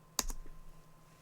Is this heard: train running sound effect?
no